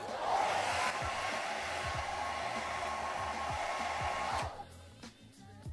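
A hair dryer runs at a steady, loud whir, drying short bob-length hair from underneath with the head flipped, then cuts off near the end, leaving faint rustling.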